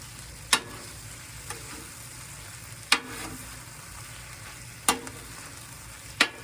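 Flat iron chicken teriyaki stir-frying in a pan, a steady sizzle broken by several sharp scraping stirs at intervals, close and alone without talk.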